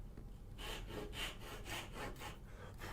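A handsaw cuts wood while a turning saw is being built, making quiet rhythmic rasping strokes that repeat about twice a second, close-up and alone.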